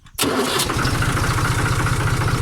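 A car engine cranks and catches after its stop solenoid (injection pump fuel shut-off solenoid) is replaced, then settles into a steady, loud, close idle with an even low rhythmic chug throughout, no talk.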